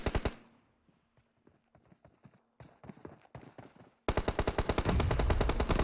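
Rapid bursts of automatic gunfire in the PUBG Mobile video game during a pro league finals match, with sparse shots at first and then a dense, loud, sustained stream of rounds at the end.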